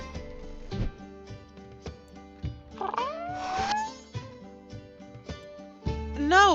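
A cat meows in the video game CraftCraft, with several rising, wavering meows and a drawn-out yowl near the end, set over game music.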